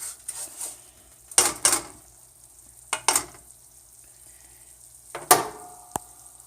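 Rice fries in oil in a pan for Mexican rice, a faint low sizzle broken by several sharp bursts of stirring and scraping against the pan, close, with no talk.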